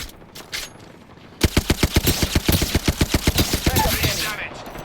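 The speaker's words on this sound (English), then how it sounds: "Oh, they're shooting at me." Rapid automatic gunfire in the shooter game Apex Legends: a fast, evenly spaced burst of loud shots lasting about three seconds, with quieter scattered shots before it.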